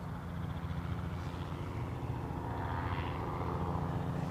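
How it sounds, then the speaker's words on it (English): Steady broadband rotor and engine drone of a helicopter flying over Newcastle Airport, constant and fairly loud throughout with no talking. "You'll get to enjoy the helicopter overfly anyway from the sound."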